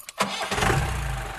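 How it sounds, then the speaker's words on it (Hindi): A car engine cranks and catches after a short starter whine, then settles into a steady, close, low idle rumble; no one speaks. "जानदार इंजन है।"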